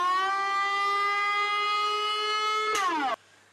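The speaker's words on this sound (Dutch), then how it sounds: "nog even de sirene." A wailing siren holds one steady, harmonic-rich tone loud and close for nearly three seconds, then drops in pitch and cuts off abruptly, leaving a quiet hum.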